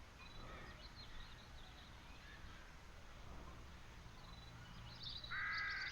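Crows caw repeatedly in the game The Dark Eye: Chains of Satinav, harsh calls scattered over steady ambient background, with a louder, closer burst near the end.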